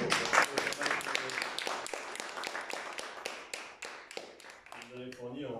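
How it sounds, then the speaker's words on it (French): Audience applause at a theatre-company reading in a municipal library: a brisk patter of clapping hands that carries on for several seconds under a person talking. "je vous applaudis"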